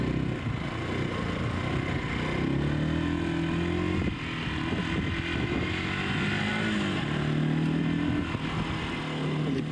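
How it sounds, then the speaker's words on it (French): A 250 cc gendarmerie motorcycle rides along steadily, its engine droning near and loud with slight shifts in pitch and a brief dip midway, no talk over it. "une moto 250, donc c'est des motos qui ne sont pas très puissantes"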